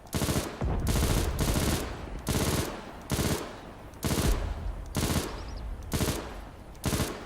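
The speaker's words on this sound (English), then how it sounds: "we're going to fire off 50 rounds from him, and we're going to see what that's like" Sustained bursts of video game machine gun fire from a bunker, about fifty rounds loosed in roughly eight loud, evenly spaced strings of rapid shots with brief pauses between, no talking.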